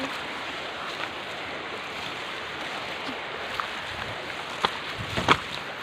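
A river flows outdoors with a steady, full rushing wash that continues unbroken, joined by a few faint knocks near the end.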